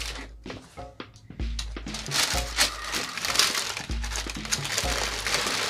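Paper wrapping crinkles and rustles close up while a pair of Reebok Question Mid shoes in red suede is unboxed, with irregular crackling handling noises throughout and no talking.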